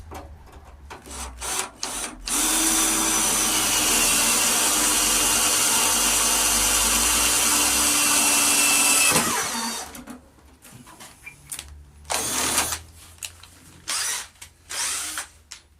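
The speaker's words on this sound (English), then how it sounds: "I found it easiest to drill a small sort of pilot first." A power drill whirs steadily for several seconds at close range, drilling a small pilot hole in the front wing of a 1939 Hillman Minx car, then stops, followed by short bursts of handling noise and brief drill pulses.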